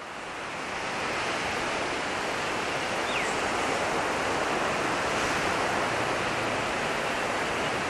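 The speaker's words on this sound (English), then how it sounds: "Good waves for some surfing out there, that's for sure." Ocean surf rolls and breaks steadily onto a beach in Phuket, Thailand, a continuous broad wash of crashing waves that builds in the first second and then holds loud and even throughout, with no voices.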